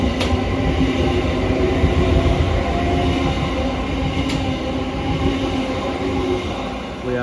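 British electric trains, Class 377 and 378 units, roll through a London station with a loud, continuous rumble of wheels and motors, and faint squeals over the steady roar.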